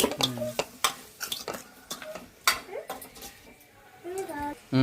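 Chicken pieces mixed with turmeric, salt and masala make soft, irregular clinks and scrapes of a spoon against a pan, close and fairly quiet, with someone talking over them.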